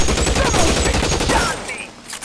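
Dense, continuous gunfire from a shootout in the video game L.A. Noire, a rapid volley of shots that stays loud through most of the stretch before thinning out near the end, with a voice briefly heard over the shooting.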